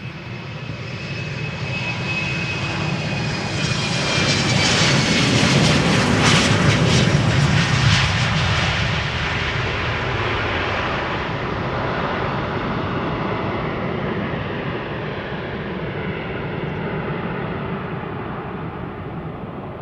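KLM Embraer 190 jet in SkyTeam livery departing Amsterdam Schiphol, a loud sustained engine roar that swells as it passes with a rising whine, then slowly fades into a long rumbling tail.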